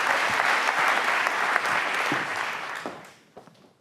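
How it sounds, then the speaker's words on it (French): An audience applauds French economy minister Bruno Le Maire at an EY conference event, a dense sustained ovation with steady clapping that tapers off and fades out near the end. "vous pouvez l'applaudir, Bruno Le Maire"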